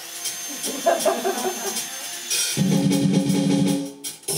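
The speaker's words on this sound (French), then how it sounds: "Ainsi naquit la brosse à dents électriques." A steady electric buzz starts partway through and holds at a constant pitch, close and fairly loud, after a stretch of quieter clattering.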